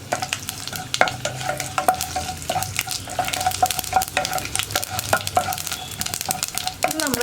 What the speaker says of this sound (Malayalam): നമ്മുടെ കടുക് പൊട്ടിക്കൊണ്ടിരിക്കുന്നുണ്ട്